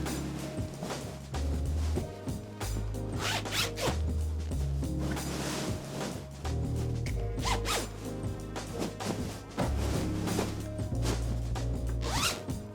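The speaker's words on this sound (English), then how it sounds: "then it's time to start zipping it up" A zipper is drawn closed again and again around a Le Sac cover fitted over its insert, a run of close, loud rasping strokes with short gaps between pulls and no talking.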